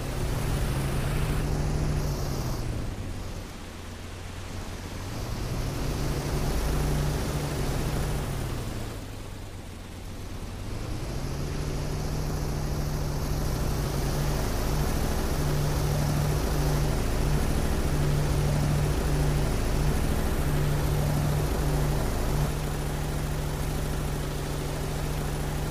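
Boat driven in the game PUBG Mobile, a continuous droning engine hum that dips briefly twice and then runs steady and loud, with no voices.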